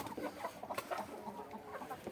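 Several chickens cluck softly in a loose, irregular chatter, close by, with no voices.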